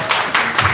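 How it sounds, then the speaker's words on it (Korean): Audience applause at a southpaw-versus-southpaw boxing match, following a hard-fought bout, comes as a short, dense burst of clapping with noisy swells and no voices over it. "사람들과 열심히 싸운 양 선수에게 힘찬 박수를 보내시오"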